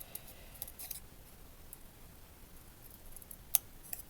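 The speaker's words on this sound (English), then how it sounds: "So I just cut down into each petal and shaped it a little bit so it wasn't so obvious it was cut." Scissors cutting into paper flower petals for a birthday card, a short run of soft close snips with one crisp louder cut near the end, no voices.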